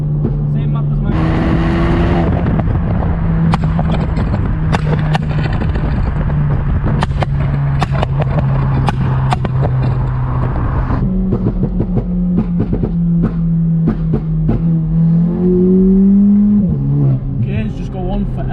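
A Volkswagen Polo GTI with a 6-speed DSG gearbox accelerates hard, engine note climbing and dropping through quick gear changes with sharp pops and crackles, loud and close from inside the car, while someone talks over it.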